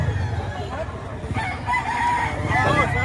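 A rooster crows loudly and close by, with a long drawn-out call in the second half, while people talk over a busy low background at a chicken market in Batangas.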